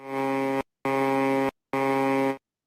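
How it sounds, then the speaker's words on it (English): Three loud, identical buzzer blasts, each about half a second long, separated by short silences. "I got to turn the volume up so people can hear your little buzzer"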